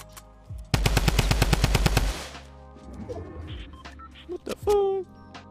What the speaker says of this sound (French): Ça tire sur un escalier, hein